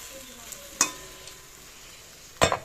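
Bora fritters frying in oil, a soft steady sizzle with two sharp clatters of a utensil against the pan, no voices.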